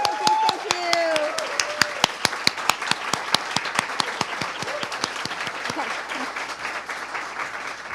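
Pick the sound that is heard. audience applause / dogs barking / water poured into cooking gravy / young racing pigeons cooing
audience applause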